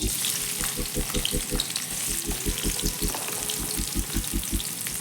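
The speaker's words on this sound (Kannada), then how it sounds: "ಎಣ್ಣೆ ಕಾದಿದೆ, ಈರುಳ್ಳಿ ಹಾಕೋತಾ ಇದ್ದೀನಿ." Onions frying in hot oil for dum biryani, a loud continuous crackling sizzle up close with a regular pulsing rhythm throughout and no voices.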